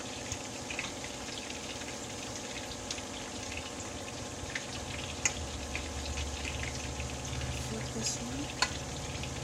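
Italian-style chicken pieces fry in hot oil with a steady close sizzle and crackle, broken by occasional pops and clinks of turning the pieces, while someone briefly speaks.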